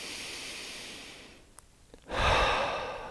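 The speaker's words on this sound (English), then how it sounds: "Another deep breath in." Deep breathing during a gentle guided stretching session: a long, soft exhale, a brief pause, then a louder, close inhale through the nose.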